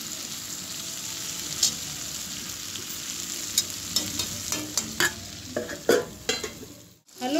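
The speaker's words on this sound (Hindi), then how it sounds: "अब इसको हम 10 मिनट तक पकाएंगे बिल्कुल धीमी धीमी आंच में।" Okra and onions cook slowly over low heat in a pan, giving a soft continuous sizzle with light scraping stir strokes that grow busier toward the end, close by and without talk.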